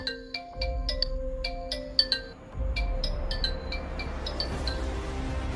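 A mobile phone ringtone plays a bright chiming melody of clinking tones, loud at first and then fading under a low background rumble.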